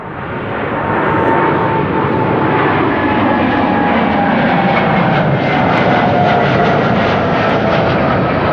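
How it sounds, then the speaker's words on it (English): A KLM airliner on the flight to Willemstad roars past at Amsterdam Schiphol, a loud, steady, broadband engine rumble that builds within the first second and holds throughout. "KLM flight 735 to Willemstad"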